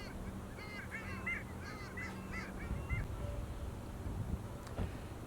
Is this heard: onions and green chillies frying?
no